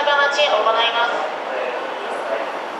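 Keikyu 1000 and 1500 series trains at Shinagawa Station, a nearby rail hum with screeching, tonal wheel or motor whine that gradually fades, heard under station noise.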